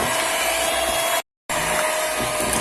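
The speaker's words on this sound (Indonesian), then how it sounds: "Kita kocok sampai adonannya halus ya" Electric mixer beating steamed cake batter, a steady whirring motor hum that cuts out briefly for a moment and then resumes at the same level, close and with no voices.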